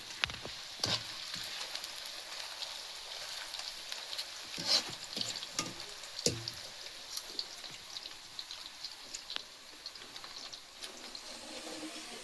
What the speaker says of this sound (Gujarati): તળવામાં બહુ વાર લાગે આમાં.